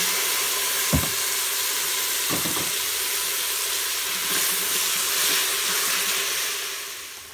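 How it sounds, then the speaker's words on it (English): Onions and garlic sauteing in a pan for a Korean soup, giving a steady close hiss of frying with a few soft knocks and scrapes of a utensil early on, and no voices. "over here I have the onions and the garlic sauteing for the Korean soup"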